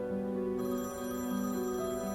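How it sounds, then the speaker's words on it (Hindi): A mobile phone rings indoors in a Turkish drama scene, a steady electronic ringtone melody with sustained tonal notes playing clearly and continuously, with no talking over it. "मेरा फोन बज रहा है।"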